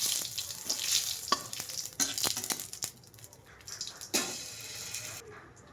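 Cumin seeds fry in hot oil in a pan while being stirred, a bright steady sizzle broken by spoon scrapes and taps that fades softer toward the end.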